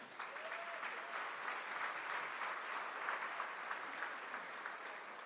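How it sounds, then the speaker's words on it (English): Sustained applause for the St. Louis Symphony fills a business luncheon hall, a steady even patter of many hands at moderate distance with no speech over it. "Let's give a hand clap for the St. Louis Symphony"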